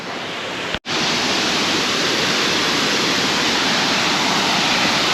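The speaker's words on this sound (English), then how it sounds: "that's not Hareshaw Linn itself, but quite a spectacular waterfall all the same." Near Hareshaw Linn in Northumberland, a spectacular waterfall roars as a loud, steady, broadband rush close by, with one brief dropout near the start and no voices.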